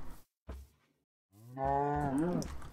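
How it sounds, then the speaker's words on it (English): Minecraft cows give two short grunts followed by a long, drawn-out low moo, clear and close, with no talking over them. "Hello, cows."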